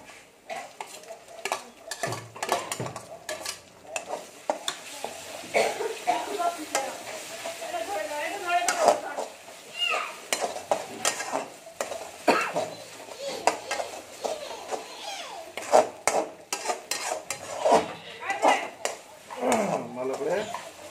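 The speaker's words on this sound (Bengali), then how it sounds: "ভালো করে রসুনটা ভেজে নেবো" Garlic paste sizzles and fries in a pan, stirred with a utensil that scrapes and clinks against the metal at irregular intervals, close by, with a voice talking over it throughout.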